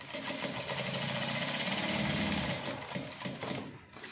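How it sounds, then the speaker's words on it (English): Sewing machine running steadily, stitching a seam on a danshiki dress with a V-neck placket; a continuous close, loud mechanical whir with a rapid needle rhythm, slowing slightly near the end. "So let's just keep sewing it up, maintaining the half an inch."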